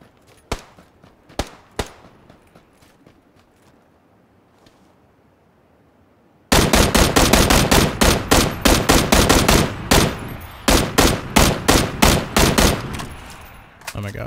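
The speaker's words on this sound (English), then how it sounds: "He was shooting someone directly south of me." Gunfire in a PUBG match: a few sparse distant shots, then a sudden loud stretch of rapid repeated shots in quick bursts continuing to the end.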